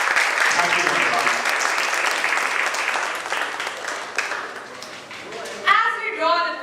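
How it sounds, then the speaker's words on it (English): A school audience at a student talk event breaks into sustained applause that fades gradually, then a young voice speaks over the last of the clapping. "Let us rise and offer a thunderous round of applause to honor every individual who contributed to this remarkable day"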